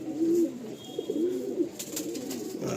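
Soft, low cooing from a Garia pigeon, two short rolling coos close by over a steady background hum, with no talk.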